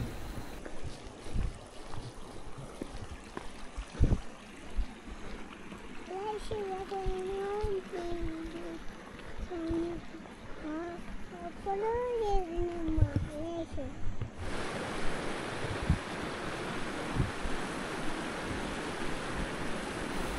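Clear stream water from Rara lake flows steadily downhill as a continuous rushing wash, joined midway by a few tonal, voice-like calls and growing louder and fuller toward the end.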